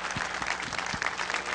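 An audience applauds at an outdoor Venezuelan Air Force base event honouring Sukhoi pilots, with steady clapping from many hands punctuated by a few low thumps.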